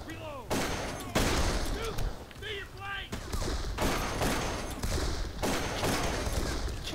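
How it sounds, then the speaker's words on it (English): Gunfire in the shooter game Darkest of Days: repeated sharp rifle shots crack at irregular intervals, some close and loud, over a busy battlefield background with occasional whistling effects. "Where am I getting shot?"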